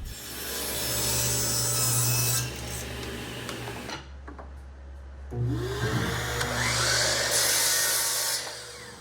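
Rhythmic back-and-forth rasping of a saw cutting a 2 by 12 inch wooden mallet handle piece, close and loud, pausing briefly midway before resuming.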